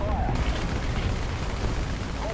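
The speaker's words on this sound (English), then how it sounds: "I think I tried to drop some artillery here" Distant artillery and gunfire rumble in a War Thunder tank battle, a dense, steady barrage of low booms and crackle filling the whole stretch without pause.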